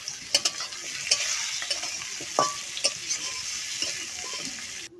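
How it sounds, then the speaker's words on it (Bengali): Small potato pieces fry in oil with bay leaf, whole cumin and onion, a soft continuous sizzle broken by scattered clicks and scrapes of stirring, with no voices. "তেলে তেজপাতা দিয়ে, গোটা জিরে আর পেঁয়াজ দিয়ে হালকা একটু ভেজে নেব"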